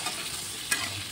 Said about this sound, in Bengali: ফুলকপিও তেলের মাঝে ছাড়ি দিলাম।